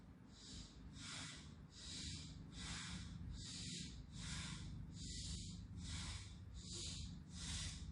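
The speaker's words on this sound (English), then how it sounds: "Breathe in, breathe out 3 times." Deep yogic breathing, slow and rhythmic, with about ten close inhales and exhales in even succession and no voice over them.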